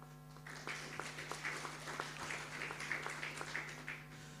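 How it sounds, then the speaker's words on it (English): Applause from a workshop audience for a speaker at an international geospatial event, steady scattered clapping filling the hall for several seconds at moderate distance over a low steady hum. "Give a big round of applause for Dr."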